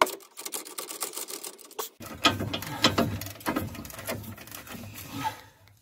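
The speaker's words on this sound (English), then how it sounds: "now we're going to remove the bolts holding the carrier on" A ratchet works on the brake caliper carrier bolts of a Rover 75, giving close, rapid clicking pawl ratchets in bursts, one short run and then a longer, stronger stretch of mechanical clicks.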